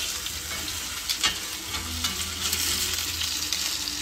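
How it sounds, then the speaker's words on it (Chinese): Beef steak sizzles and crackles in a very hot pan, a continuous dense frying hiss with scattered pops, close and steady throughout. "噼里啪啦的滋滋的声音，太美妙了"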